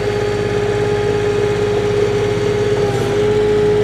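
A 2021 Kioti DK4210SE HST compact tractor with a backhoe attachment runs steadily in low range, its engine holding a loud, even idle-like drone with no talk over it.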